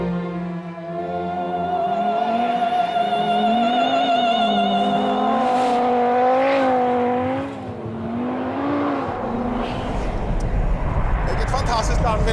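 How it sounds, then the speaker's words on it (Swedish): A 550 hp Audi Sport Quattro is driven hard on ice, its engine revving and wavering up and down as it accelerates, loud and sustained, with someone talking over it. "Och här gasar vi runt med sportquattro på 550 hästar."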